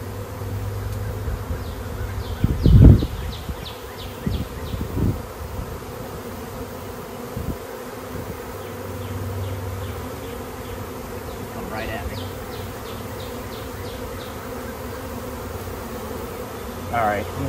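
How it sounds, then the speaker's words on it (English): Swarm of honeybees around a hive box being disturbed, a steady close buzz with a few thumps and knocks of handling the hive at the start. "Let's see how many bees I can make mad here."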